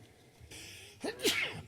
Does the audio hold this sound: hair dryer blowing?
no